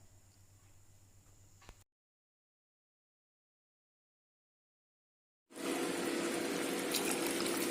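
Coconut milk is poured into biryani rice in a pressure cooker for pulao. A faint hum and a long silent gap are followed by a loud, steady rushing pour that runs to the end.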